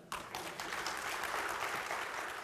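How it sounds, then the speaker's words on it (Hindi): A seminar crowd applauding steadily, dense clapping that swells in right after a brief start and holds at an even level throughout. "जोर तालियां हो जाए।"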